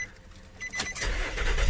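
A 2005 Nissan Frontier pickup cranks and catches after fuel sending unit work, the starter whir rising into a low engine rumble, close by with no talking.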